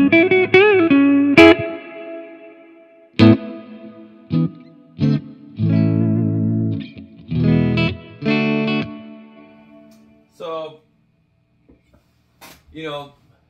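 Flamma FS02 reverb pedal on an Ibanez RG450DX electric guitar through a Marshall 6100 amp, with strummed chords and single notes leaving reverberant tails, played in bursts with pauses that grow sparser toward the end.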